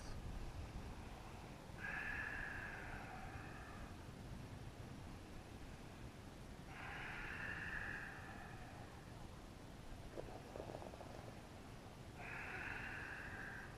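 Slow, deep breaths during a yin yoga session come in three long, evenly spaced breathy swells with quiet pauses between them, faint and close over a low background hiss.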